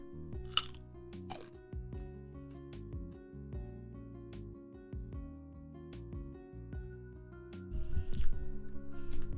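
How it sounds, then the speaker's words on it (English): A crunchy raw carrot being bitten and chewed close to the microphone, a series of loud crisp crunches at an uneven pace over steady background music, getting busier and louder toward the end. "Let me munch on this carrot."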